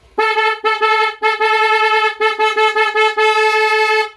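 A motorcycle's newly fitted loud horn blasts in a series of short and long honks, bright and brassy, close up and alone with no talk.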